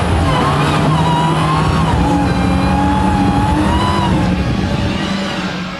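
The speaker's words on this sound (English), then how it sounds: "Doing his burnout." A Dodge Charger Hellcat holds a loud, sustained burnout at a drag racing event, engine screaming at steady high revs over a rough roar of spinning tyres, close and unbroken before easing slightly at the end.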